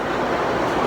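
Sea waves at a La Union beach in the Philippines, a steady broad wash of surf filling the short moment, no voices.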